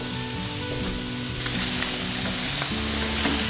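Puff pastry with filling sautéing and browning in a pan, giving a steady loud sizzle and fry throughout, with occasional soft scrapes as it is gently moved and turned.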